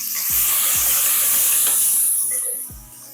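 Shallots and tomatoes sauté in a pan for mutton curry with a loud, close sizzling hiss, broken by several low knocks of a spoon or of pieces dropping in. The sizzle eases near the end and there is no talk.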